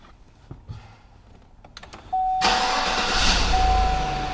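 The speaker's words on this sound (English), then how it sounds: "what I'm going to do is start the engine." A car engine cranks and catches, settling into a loud steady idle, preceded by a few quiet clicks and handling sounds inside the car.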